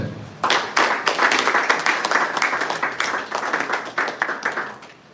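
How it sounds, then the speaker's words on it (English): Audience applause in a live-streamed gathering, many hands clapping loud and steady for about five seconds after a brief pause, with a faint voice underneath at the start. "Applaud them."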